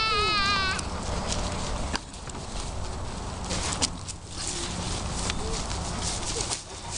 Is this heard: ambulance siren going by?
no